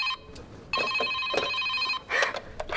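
Old-fashioned telephone bell ringing in loud, sustained bursts with short gaps, close by in a tense home setting; a voice briefly breaks in between rings.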